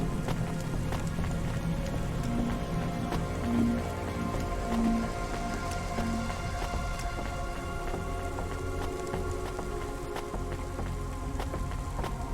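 Steady rain falls in the cyberpunk city of the video game Cloudpunk, a soft continuous patter with faint low rumbles beneath it and no speech.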